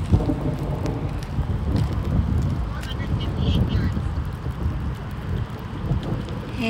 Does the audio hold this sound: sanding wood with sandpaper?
no